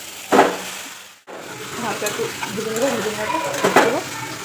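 Marinated meat poured into frying spices in a pan, a sudden clatter and drop in sizzle followed by a renewed, louder crackling fry with stirring scrapes, close up, with a voice talking over it.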